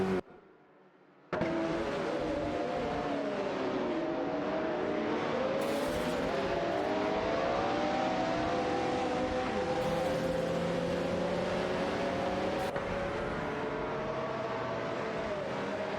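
Several race cars in an AI racing video game, engines whining at high pitch and shifting tones as they jockey for position and overtake one another, a dense continuous roar with no talk.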